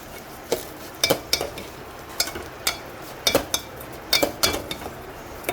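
Semolina (ravva) roasting in a pan for upma while a spoon stirs it, giving irregular scraping clinks against the metal over a faint dry sizzle, close and moderately quiet with no voices.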